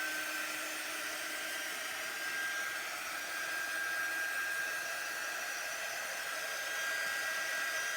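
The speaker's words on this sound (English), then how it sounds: "And then we're going to heat set it." A handheld heat tool blows continuously while heat setting a print on a hoodie, a steady loud whooshing airflow that stays even throughout with no other sounds.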